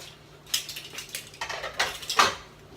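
A utensil scrapes and clinks against a pot while food for plant-based burrito bowls is stirred, a series of irregular metallic scrapes and taps close by, no talking.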